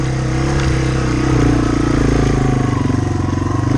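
A Yamaha TW200 motorcycle engine running steadily while riding, a loud, constant low thrum with slight swells in pitch, close-up and continuous with wind noise.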